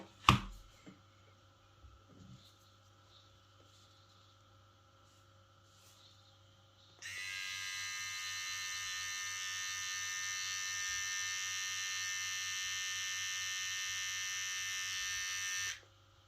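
A VGR V937 hair clipper switched on for an RPM test, a steady close electric buzzing hum that runs for about nine seconds after a few quiet handling clicks, then cuts off, with no talking.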